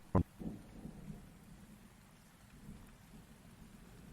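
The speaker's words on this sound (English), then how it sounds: "As the storm rages on" A thunderstorm opens with one sharp crack, then settles into a low, distant rumble and steady rain patter, faint and without voices.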